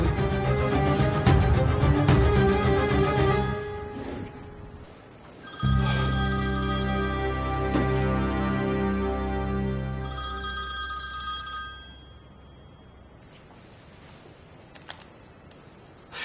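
Telephone bell ringing in a drama scene, a long loud tonal ring, a brief pause, then more ringing in bursts before it fades away.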